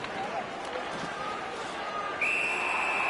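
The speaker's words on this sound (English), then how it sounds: "Puck covered, whistle blown." A referee's whistle blows in an NHL 17 hockey game and holds steadily to the end, over crowd noise and a commentator's voice.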